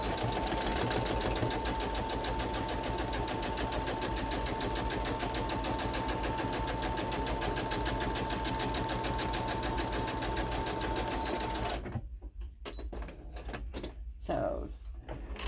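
A sewing machine stitching a patchwork skirt, a steady rapid mechanical whir for about twelve seconds before stopping, followed by faint handling clicks and rustles.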